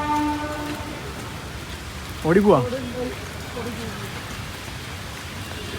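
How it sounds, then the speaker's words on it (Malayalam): Heavy rain falling steadily as a dense, even hiss outdoors near a railway station in Ernakulam, with a short spoken exclamation breaking in midway. "മഴ മഴ മഴ"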